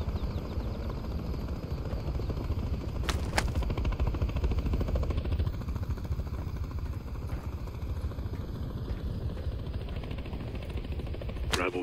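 Helicopters in the Call of Duty: Modern Warfare 3 campaign give a constant rotor thump and clatter that stays steady throughout, with a few sharp cracks standing out over it.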